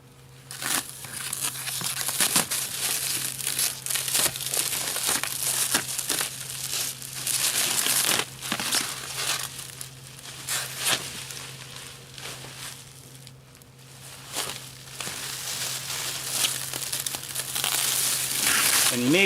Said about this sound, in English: we're going to get rid of this plastic